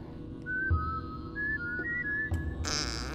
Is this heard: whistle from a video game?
yes